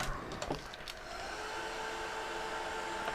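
A heat tool blows a steady, even rush of hot air across embossing powder, the broadband whoosh held unbroken from start to finish, with a few small clicks near the beginning.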